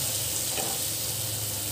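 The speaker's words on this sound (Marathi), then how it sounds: "हळदीला पण छान असं परतून घेऊया" Turmeric and tomato are sautéed in a pan, a steady, dense sizzle and hiss of frying that runs without pause, close up, with no voices.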